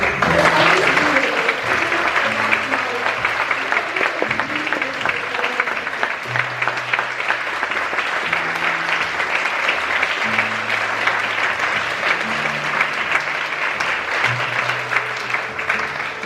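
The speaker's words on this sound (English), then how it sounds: "please give a round of applause to the MICE team and the technicians in the YNC Fabrication Studios" A theatre audience at a student production gives sustained, dense applause that holds steady throughout, with faint musical tones underneath.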